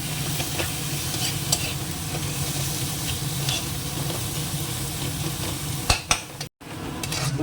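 Prawns sautéing in a thick spice masala in a pan, a steady close sizzle with scattered spoon stirs and a couple of sharper clanks near the end.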